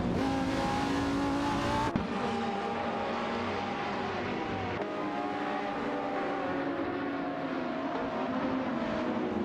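GT race cars in a racing video game, including a Ferrari F430 GTC and a Seat Cupra GT, with a continuous loud engine whine that rises and shifts in pitch through gear changes and has no talk over it.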